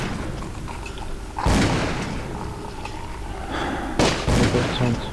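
Gunshots fired in the horror video game Call of Cthulhu: Dark Corners of the Earth, two loud broadband blasts several seconds apart over a constant rumbling game ambience.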